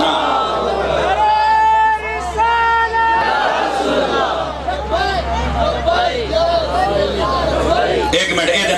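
A large crowd at a religious mehfil in Faisalabad chants slogans together, a loud, dense wall of massed voices rising and falling in repeated bursts with a steady amplified hum underneath.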